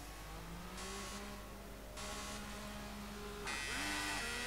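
A Honda IR-12 IndyCar engine revving and shifting gears on an oval in Project Cars 2, a steady loud drone rising in pitch with sharp upshifts.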